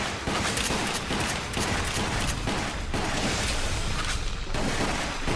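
Continuous gunfire in the Resident Evil Umbrella Chronicles video game: a dense, loud stream of rapid shots with booming impacts and a steady stutter of repeated reports, with no talking.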